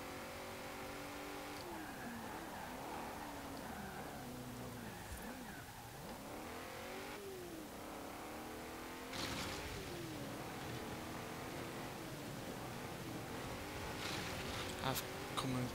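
A McLaren Senna supercar in Forza Horizon 4, its engine revving and shifting continuously as it races along, rising and falling in pitch with a steady loud drone and occasional surges, with no talk over it.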